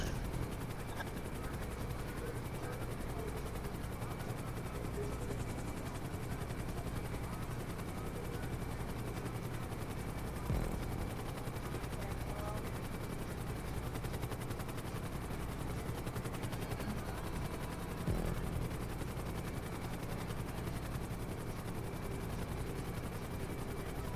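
A helicopter flies in the video game GTA 5, a steady, faint rotor drone running continuously throughout with a few brief thumps.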